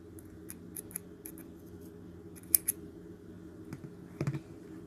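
Scissors snip crochet yarn in a quiet room, a few faint, sharp clicks and one small cluster of cuts near the end, with no talking.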